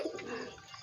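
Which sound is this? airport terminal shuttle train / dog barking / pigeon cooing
pigeon cooing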